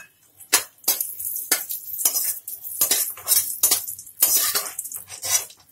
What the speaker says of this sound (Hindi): अब हम किशमिश थोड़ा सा रोस्ट करेंगे